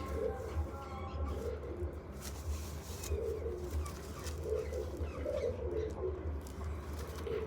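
A blue pigeon coos in repeated low throaty bursts at close range, steady across several seconds over a faint background hum.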